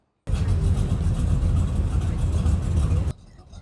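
Old cars arriving at a market event, their engines rumbling and revving loudly up close for about three seconds before cutting off sharply.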